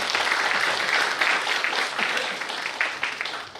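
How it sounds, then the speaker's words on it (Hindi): An audience at a devotional lecture applauds, giving a dense, continuous wash of many hands clapping. It stays fairly loud and even throughout, tapering only slightly at the end. "ताली बजाइए मेरे राम के लिए।"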